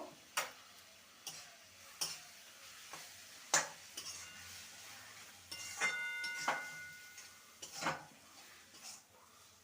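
Ground pea dal paste being stirred into radish greens in a pan, with soft scraping and irregular ticking spatula knocks against the pan over a faint sizzle, close and quiet.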